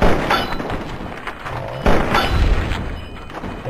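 Turret fire in Fallout 3 comes as two loud, heavy booming thumps, one at the very start and a second near the middle, each followed by a rumbling tail of noise.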